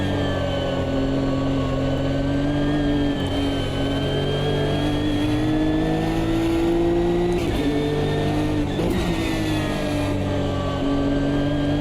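A GT race car in a Le Mans racing video game, its engine droning and revving steadily through gear changes with brief crackling exhaust pops, loud and continuous without talk.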